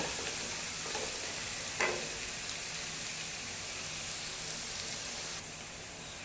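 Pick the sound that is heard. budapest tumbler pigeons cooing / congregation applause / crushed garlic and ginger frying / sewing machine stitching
crushed garlic and ginger frying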